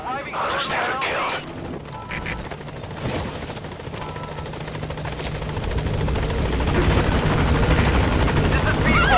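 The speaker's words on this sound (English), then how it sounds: "I'll send the extraction chopper" The extraction helicopter in Metal Gear Solid V: The Phantom Pain approaches with a thudding rotor drone that grows steadily louder and nearer, after brief voices and clatter at the start.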